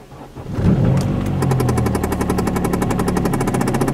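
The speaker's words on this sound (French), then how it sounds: "Démarrage au quart de tour, après avoir attendu le préchauffage des bougies" An Opel Vectra 2.0 DTI diesel engine cranks after glow-plug preheating and catches within a second, then settles into a loud, steady clattering idle up close.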